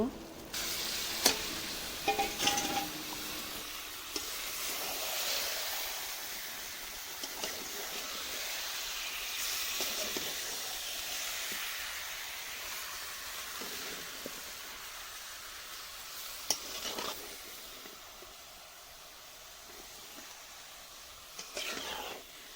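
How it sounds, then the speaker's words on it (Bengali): Meat sizzles and fries in spices on a clay stove, with steady broadband frying hiss and occasional stirring scrapes and clinks throughout, no talking. "মাংসটা এখন মশলার মধ্যে দিয়ে দিব।"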